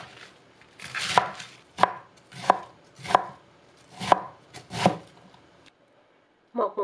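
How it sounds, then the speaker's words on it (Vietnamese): A knife dices napa cabbage into small 3 mm pieces on a cutting board, six evenly spaced, crisp chops close by with short pauses between them, then one more stroke at the end. "Cắt hạt lựu nhỏ, tức là khoảng 3mm."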